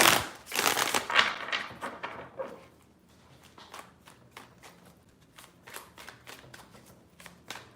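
Cards are shuffled in quick riffling bursts, a louder flurry first and then several softer, rhythmic riffles close by.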